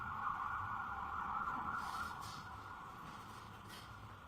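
Emergency vehicle sirens wail outside a courtroom, a steady high tone heard at a distance through the walls, fading slightly as the vehicles pass.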